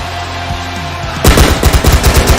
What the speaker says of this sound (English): It's 4th of July fireworks for President Rollins.